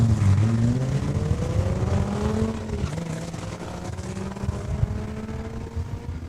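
Drag racing at Saskatchewan International Raceway, a Dodge Viper running against a Ram truck: loud engine roar climbs steadily in pitch as the vehicles accelerate down the strip, a sustained, close, powerful drone with no voices.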